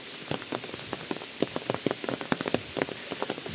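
Rain falling beside a pond amid mango orchards and jungle, a steady close patter of many distinct drops striking surfaces over a continuous wet hiss.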